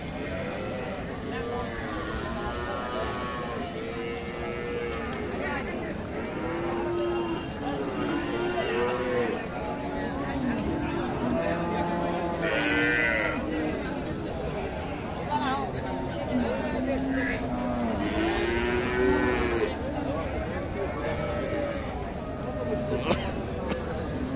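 Several cows moo repeatedly, overlapping one another amid a busy cattle market crowd with people talking in the background.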